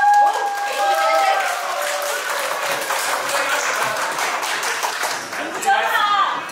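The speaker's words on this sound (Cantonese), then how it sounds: "好，俾啲掌聲。" A crowd claps for a couple at their 25th wedding anniversary party, a scattered applause that swells under a host's voice. Talk continues throughout.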